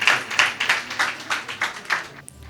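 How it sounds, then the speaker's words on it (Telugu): A congregation claps in praise at a Friday worship service, about seven firm, evenly spaced claps in a steady rhythm, close and bright, before fading out. "అందరు చప్పట్లు కొట్టి ప్రభుని స్తుతిద్దాం."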